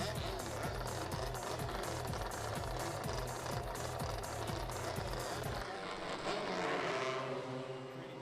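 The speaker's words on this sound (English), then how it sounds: "Engines on! Engines on!" MotoSurf motorized surfboard engines start up at a Pro Class race, a dense, loud, continuous buzzing roar with rhythmic pulsing that shifts into a smoother high whine midway, with no talk over it.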